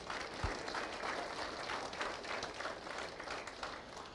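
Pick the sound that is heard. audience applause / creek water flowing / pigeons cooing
audience applause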